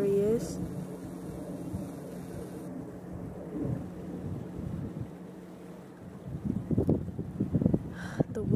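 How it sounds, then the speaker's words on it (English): Outdoor wind buffets the microphone in a steady low rumble, with gusts and a person talking over it near the end. "The wind is making the camera shake."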